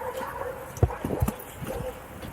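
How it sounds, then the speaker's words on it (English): A dog off its leash barks a few sharp times in a city setting, the yaps mid-distance and short, with faint background noise between them. "Listen for the barks."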